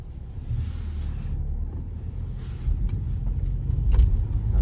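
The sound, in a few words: 2020 Audi A6 2.0 TFSI Avant car driving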